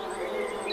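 Bees buzzing in a steady, continuous drone, fairly close and moderately loud, with no pauses across the short stretch.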